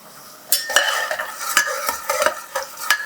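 Onions and green chillies sizzle as they fry on low flame in a pan for a mutton and tomato dish, with repeated scraping stirs of a spoon every half second or so, close and fairly loud, no talking.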